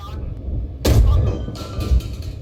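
A loud, booming tank cannon blast from a Leopard A1A2 in the video game GHPC, with a sharp attack and a rumbling tail, followed shortly by a second, softer thump.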